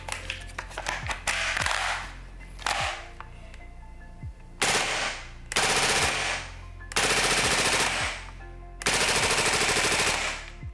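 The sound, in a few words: airsoft replica firing full auto on gas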